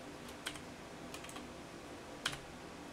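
Faint computer keyboard keys are tapped in a short, sparse burst while a folder name is typed, with a few soft clicks over a quiet room background.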